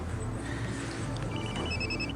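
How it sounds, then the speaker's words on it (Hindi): A telephone rings in an indoor drama scene, a steady repeating electronic ring heard close and clear with no talk over it. "मुझे एक फोन का जवाब देना है।"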